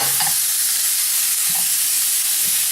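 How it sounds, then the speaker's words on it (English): Shrimp and vegetables sizzle loudly and steadily in a hot pan while being stirred, a constant bright hiss with occasional soft scrapes of the utensil against the pan. "I'm going to continue to stir this until everything starts to cook"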